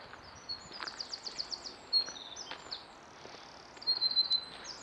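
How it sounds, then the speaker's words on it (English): Wild birds sing and chirp along the Longdendale Trail, a Pennine moorland path, with overlapping high twittering phrases from several birds at a moderate distance over a soft outdoor hiss. "Lots of birds, all sorts of varieties."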